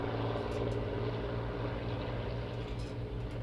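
A propeller aircraft flying an airshow display and pitching up at the end of the display line, heard as a loud, continuous, throbbing engine drone with a deep rumble, steady throughout.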